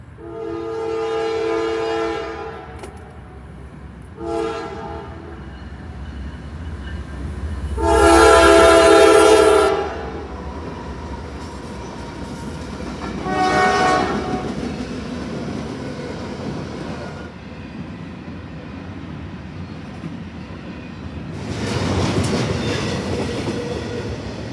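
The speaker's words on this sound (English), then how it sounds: "another train showed up. This one was a Norfolk Southern intermodal, led by a Dash 9" A Norfolk Southern intermodal freight train led by a dirty Dash 9 locomotive and trailed by a shiny AC-44 passes close by, sounding several loud, sustained horn blasts over a steady rumble of rolling cars.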